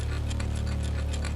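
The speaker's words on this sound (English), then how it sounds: "I stopped sawing." Sawing in an Appalachian horror audio drama, a faint rhythmic rasp of a blade stroking back and forth several times over a low steady hum, with no talk.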